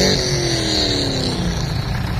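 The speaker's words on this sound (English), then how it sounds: "you can actually graft a V8 engine onto a little tractor" A V8 engine grafted onto a small vintage tractor built for a 23 horsepower engine runs loud and close at a steam rally, giving a continuous rich growl as the revs shift slightly.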